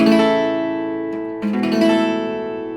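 Acoustic guitar chords are strummed up close, one ringing chord giving way to a change and a few quick strums that sustain.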